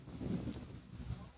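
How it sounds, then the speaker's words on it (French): Outdoors on a walk to a river, wind gusts buffet the microphone as a low, uneven rumble that swells and fades, fairly faint throughout. "J'ai du vent."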